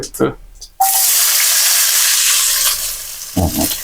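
Chopped onions hit hot oil in a pan for tomato curry, bursting into a loud, steady sizzle that holds for several seconds, with brief clatter at the start and at the end.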